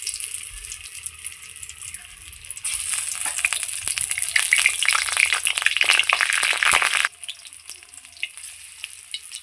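Taro flower fritters are dropped into hot oil, and a loud, crackling sizzle swells suddenly and bubbles steadily for several seconds before easing back to a quieter hiss, with no talking.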